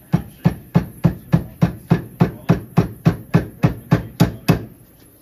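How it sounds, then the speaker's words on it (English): Clamped metal being hammered into a circle, a steady series of about seventeen sharp, ringing hammer blows at an even rhythm, close and loud with no talk. "And then you're just beating it into a circle?"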